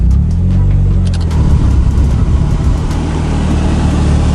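Turbocharged Mazda Miata engine running steadily after starting, a loud close low rumble with a constant idle drone and faint higher whine throughout, no voices.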